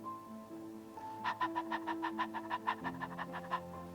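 A group pants rapidly like dogs in a breathing exercise, about a dozen short, even breaths in a steady rhythm under a droning tone.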